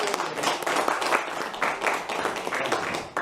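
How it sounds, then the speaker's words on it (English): Brief applause from a small gathering at a room opening, a lively patter of clapping hands with uneven bursts, fairly close, filling the short stretch with little talk. "Round of applause for everyone for you."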